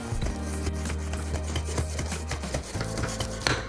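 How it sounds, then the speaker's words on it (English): A Pampered Chef batter mixer is pushed to the bottom and twisted through batter, making continuous rubbing, scraping strokes with a steady low hum underneath and a sharper scrape near the end. "I put the mixer all the way to the bottom and I twist it"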